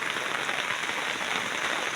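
Heavy rain falling steadily, a dense even hiss of drops on surfaces with no breaks, moderately faint and without voices.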